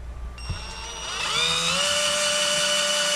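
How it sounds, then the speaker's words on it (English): A power drill spins up close by and whines steadily as it bores a pilot hole into a wooden board, its pitch rising and then settling. "Now we're just going to go ahead and pre-drill this."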